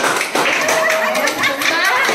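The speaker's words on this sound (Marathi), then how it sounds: "हे टाळ्या मारा सर्वांनी" An audience claps at a fugdi dance performed after Ganpati bhajan singing, a brisk patter of hand claps heard close up while people talk over it.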